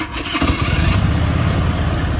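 A Harley Davidson FLHRCI 1450 motorcycle on a standard exhaust cranks briefly, then catches and settles into a loud, close, rumbling idle.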